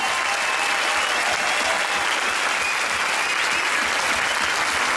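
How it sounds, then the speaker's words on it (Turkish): A large audience applauds at the close of an evening show, a dense, even wash of clapping that continues without letup from start to finish. "Lütfen çok büyük bir alkışla bu gecemizi sonlandıralım."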